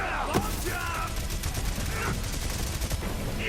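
Rapid gunfire from Moze's minigun build in Borderlands 3 rattles steadily through the scene, mixed with game effects and a few tonal sweeps, moderately loud and continuous.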